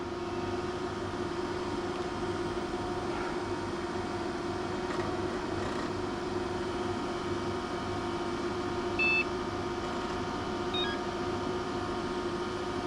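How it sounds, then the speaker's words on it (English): An arcade machine PC powering on gives off a steady electronic hum and whine, with a few short, faint beeps near the end. No one talks. "It does beep."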